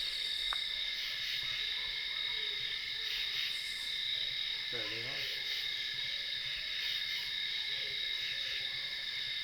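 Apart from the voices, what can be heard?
two barred owls hooting in the forest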